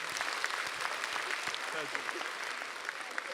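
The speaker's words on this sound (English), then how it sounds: "Give her a round of applause" A Comic-Con panel audience applauds in a sustained, fairly even wash of clapping with scattered sharper claps, while a voice speaks briefly over it.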